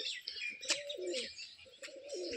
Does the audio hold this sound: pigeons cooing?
yes